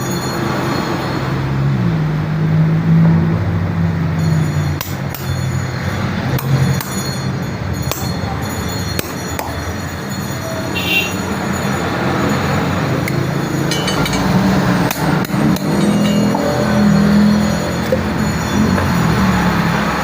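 Continuous loud rumble of nearby vehicles with metallic clanks and squeals, a busy roadside din running throughout with no talking.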